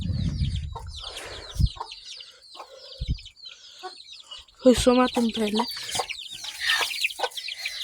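A backyard hen and her chicks clucking and peeping in agitation as they are grabbed by hand, with sharp squawks and bursts of frantic cheeping around someone speaking briefly.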